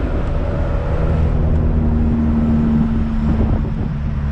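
Suzuki Vitara with a swapped-in 2.1 TD diesel engine driving, a steady low engine drone with road and wind noise heard from inside the cabin.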